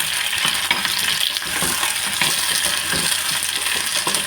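Okra sautéing in hot coconut oil in a pan, a continuous close sizzle broken by repeated clinks and scrapes of a spoon stirring against the metal, no voices.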